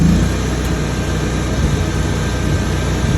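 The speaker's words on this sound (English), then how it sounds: "You'll hear my engine drive ramp up when I" A Bobcat welder's engine drive runs as a loud, steady low drone with a broad mechanical roar, holding even throughout with no voices.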